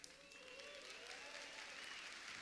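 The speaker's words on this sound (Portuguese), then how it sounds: "Mais uma salva de palmas, Dr. José Irineu Gomes Pan." An audience applauds a doctor at the end of an interview, steady sustained clapping from a crowd throughout, fairly soft and even, with no voices standing out.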